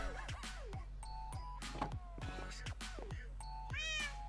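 A cat in Minecraft meows several times in a row, each meow clear and close, with ding-like game tones and other chimes sounding between them over a steady low hum.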